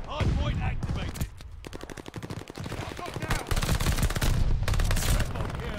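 Rapid automatic fire from a PPSh-41 submachine gun in Call of Duty Vanguard, long dense bursts of loud game gunfire with brief gaps, mixed with other in-game combat sounds.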